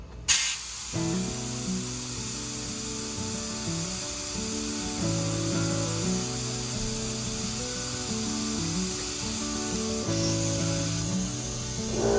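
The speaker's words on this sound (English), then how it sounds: "So you can take it right on the end of the valve stem, air it up." Compressed air hissing steadily through a tire valve stem with its core removed, a close, continuous rushing spray that holds for about twelve seconds with slight shifts in tone.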